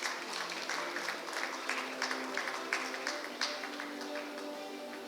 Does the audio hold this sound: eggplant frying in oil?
no